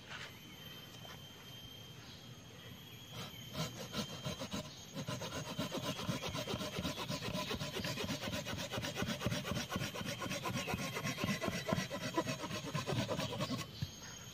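A Silky pocket saw cuts through a wooden branch about as thick as a calf, with rapid, rhythmic rasping strokes that start after a few quiet seconds and keep going steadily, close and clear, with no talking.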